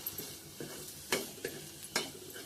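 Food hisses faintly in hot tempering oil while a spoon scrapes and stirs the pan in a few soft, irregular strokes.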